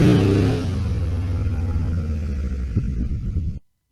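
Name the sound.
adventure motorbike engine throttled on steep off-road uphill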